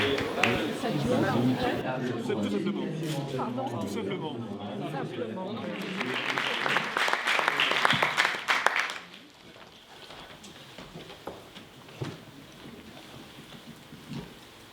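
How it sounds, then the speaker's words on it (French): An audience claps for two authors at a literary evening, a broad burst of applause rising for a few seconds midway, surrounded and overlapped by people talking. "Vous pouvez les applaudir et les remercier."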